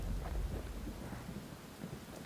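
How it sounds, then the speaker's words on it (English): Rain and rolling thunder from the video game Bastion, heard as a low rumbling wash with a steady hiss of rainfall, strongest at the start and easing slightly, with no voices. "Oh, it's raining in the homestead, so I guess dynamic weather for that."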